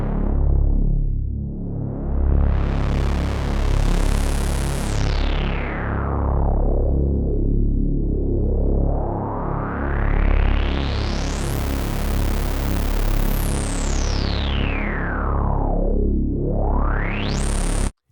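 A Tone2 Icarus2 synthesizer plays a sustained tone through its LP Butter 24 lowpass filter while the filter sweeps repeatedly open and closed, giving loud rising and falling whooshes that keep going with no pauses.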